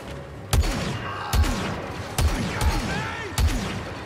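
Blaster fire from Star Wars Battlefront 2's Endor mission cracks out in five sharp loud shots spaced unevenly over a few seconds, each with a brief booming low tail and game ambience between them.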